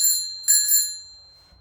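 A bicycle bell on a klunker bike rings twice close up, two bright metallic dings with a short gap, the second ring decaying slowly into quiet.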